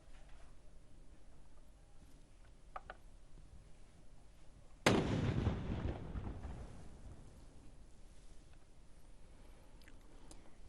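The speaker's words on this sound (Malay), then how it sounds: "disemarakkan dengan 12 das tembakan meriam di ibu negara petang tadi" A ceremonial cannon salute marking the start of Ramadan in Brunei's capital booms once, a single heavy distant blast that rolls and fades over several seconds against a faint outdoor background.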